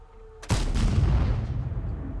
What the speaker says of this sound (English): And we shoot down the building, which allows our prototype to hit the guy.